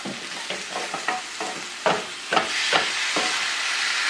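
A thick masala mango mixture is stirred in a frying pan over a steady sizzle, with repeated scraping strokes at an irregular rhythm and no voices.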